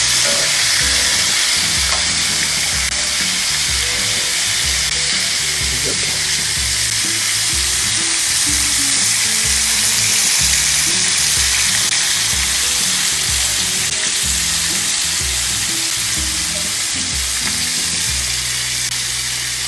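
Steady, dense sizzling and crackling of chicken frying in hot oil, loud and close, continuing without pause throughout.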